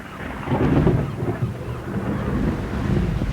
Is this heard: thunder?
yes